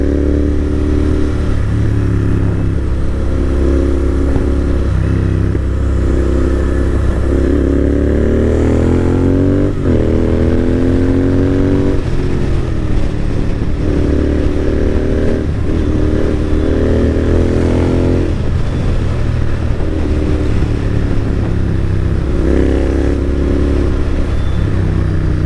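A Royal Enfield GT650 motorcycle with an AEW exhaust pulls away and accelerates, a continuous close, throaty twin-cylinder drone rising and dipping through the gears with no talking.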